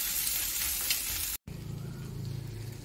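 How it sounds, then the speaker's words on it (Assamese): Turmeric, cumin, coriander and jaluk powder frying in a hot pan, a steady close sizzle that cuts out for a moment and then returns lower and softer. "ইয়াত অকণমান হালধি, অলপমান জিৰা ধনিয়া আৰু লগতে জালুকৰ গুড়ি, এইখিনি ভাল কৰি ভুনি ল'ম।"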